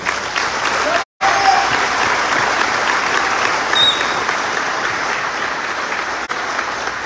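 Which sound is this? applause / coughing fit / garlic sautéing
applause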